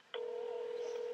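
A single steady telephone tone starts abruptly after a brief quiet moment and holds clear and moderately loud as a call is placed, with no talking.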